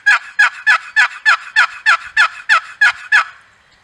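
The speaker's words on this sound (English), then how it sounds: "then to make the full yelp, I'm going to make five or six notes." A turkey box call played quickly gives about a dozen sharp, evenly spaced yelp notes in a brisk rhythm, close and loud, then stops.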